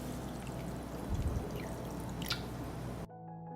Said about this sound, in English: I pour hot water into the pot,